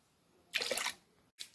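A washing machine detergent drawer is plunged into a bucket of hot water, giving a short splashing slosh, then a faint brief swirl and a sharper closing splash.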